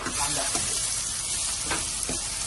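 Chopped onions fry in hot oil for late-night pasta, giving a dense, steady sizzle that stays close and constant, with a few brief scraping stirs on top.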